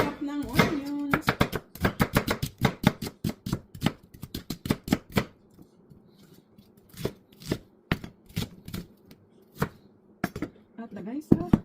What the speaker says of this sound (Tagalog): Chop ng onions.